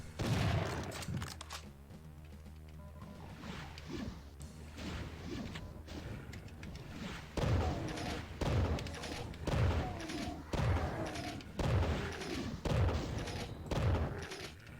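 Shotgun blasts from the Doom video game fire in a steady run of loud, sharp reports about one per second, punctuated by crashes and thuds of combat, with no talking.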